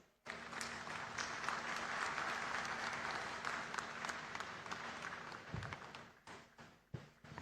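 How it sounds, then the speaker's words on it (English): A ceremonial audience gives a warm round of applause at a government certificate presentation, steady crowd clapping lasting several seconds before thinning out into scattered claps, heard from a distance and faint overall. "May we acknowledge the invaluable contribution of all the participating organizations with a warm round of applause, please."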